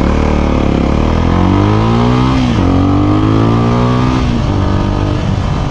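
Kawasaki Ninja 250SL motorcycle being ridden, the engine loud and close as it accelerates with rising revs, a brief shift dip midway, then climbs again over steady wind rumble.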